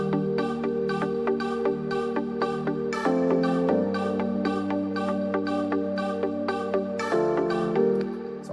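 Nexus synth choir patch in an Afro House arrangement: sustained layered vocal-like chords shifting every few seconds over a steady repeating rhythmic pattern, loud and alone with no talking.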